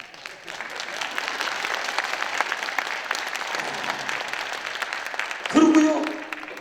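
Sustained applause from a large audience at a church revival meeting in Busan's BEXCO auditorium, a dense clapping wash that holds steady until a voice cuts in near the end.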